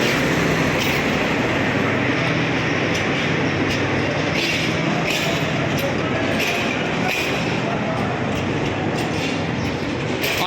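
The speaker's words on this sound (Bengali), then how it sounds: "অনেক লম্ফা ট্রেন অনেক লম্ফা ট্রেন অনেক সৌন্দর্য ট্রেন" A long train rumbles past close by with a steady, loud rolling roar and rail clatter that fills the whole stretch without a break.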